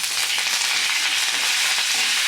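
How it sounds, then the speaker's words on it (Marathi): Curry leaves go into a hot pan with garlic and peanuts for garlic coconut upma. A loud, close, steady frying sizzle hisses without a break, with no talking. "आता घालूया कढीपत्ता"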